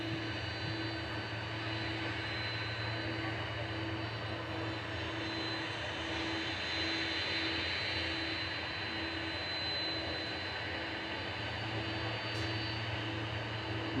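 A jet airliner's engines roar steadily at Manchester Airport, a continuous broad rumble with a sustained whine, moderately distant and unbroken, no voices over it.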